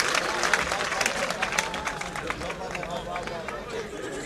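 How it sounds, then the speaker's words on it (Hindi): An audience at a kavi sammelan poetry recital in Lakhimpur Kheri breaks into applause, a broad wash of many hands clapping with crowd murmur, moderately loud and sustained under a distant hall ambience. "एक बार तालियां बजा करके मुझे आदेश दीजिए"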